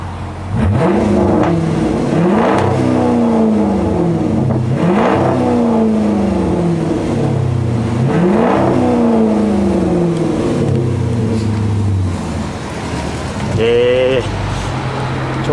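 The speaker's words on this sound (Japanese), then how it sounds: "少しアクセルを踏んでみたいと思います。" A 2006 Chrysler 300C engine revs up and settles back several times in a row as the accelerator is pressed, each rise loud and close, with a short whir near the end.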